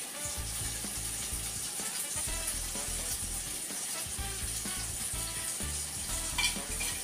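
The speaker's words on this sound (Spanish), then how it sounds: "Voy a revolver un poquito." Spaghetti in spinach cream sauce gets stirred in a pan, a continuous close sizzle laced with soft scraping and clinking of the utensil, with low music-like tones running underneath.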